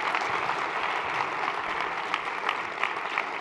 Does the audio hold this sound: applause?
yes